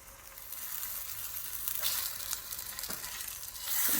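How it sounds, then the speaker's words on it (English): A steady, soft sizzle from a chile relleno burrito with cheese heating on a griddle over a low flame, with a few faint crackles and a slight rise at the end. "So I'm just gonna let it kind of heat over a low flame on my griddle."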